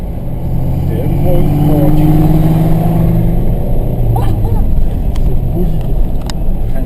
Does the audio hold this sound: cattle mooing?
no